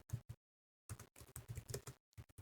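Someone types a command on a computer keyboard: quick, close clusters of keystrokes in short bursts separated by brief pauses, quiet and without talk.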